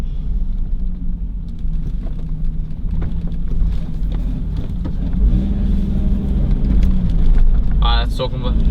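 Nissan Patrol with a TB45 turbo engine and a torque converter lockup, heard from inside while rounding a roundabout: a steady low engine rumble with road and wind noise, slowly building, with a brief faint squeak near the end.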